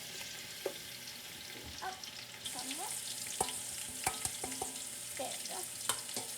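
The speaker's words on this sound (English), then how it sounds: "Heat the oil and add the onions until they're golden brown." Onions fry in hot oil for a mutton curry in tomato gravy: a steady, close sizzle with scattered clinks and scrapes of stirring throughout, and a brief spoken remark partway through.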